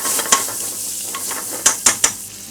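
Chopped onions fry with a small pinch of salt in a pan for a chicken balti curry, a soft sizzle punctuated by several sharp scraping stirs of a utensil against the pan.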